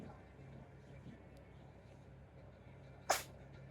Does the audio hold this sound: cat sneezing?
yes